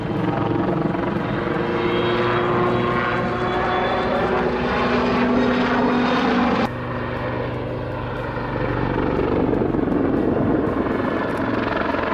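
Aircraft engine roaring steadily through a zoom climb, pulling straight up and over the top before heading back down; a loud, continuous drone with a sudden drop in level partway through, then rising again.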